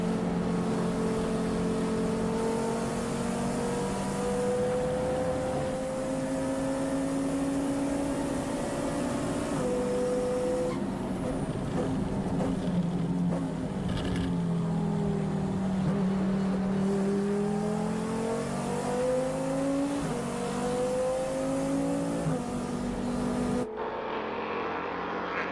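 Onboard a Porsche endurance race car at Slovakia Ring, the engine drones loudly and continuously, its pitch climbing through each gear and dropping on upshifts and braking, heard alone from inside the car.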